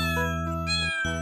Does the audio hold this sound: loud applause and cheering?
no